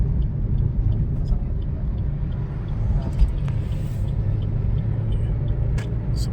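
Cars and traffic rumble along a toll highway in Indonesia heading toward Lampung, heard from inside a moving vehicle as a loud, continuous low road drone with occasional passing swells.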